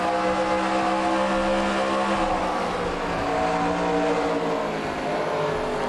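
Bobby Labonte's race car engine drones from the onboard cockpit at Las Vegas, a loud sustained whine that holds a steady pitch under caution with slight wavering, no voices.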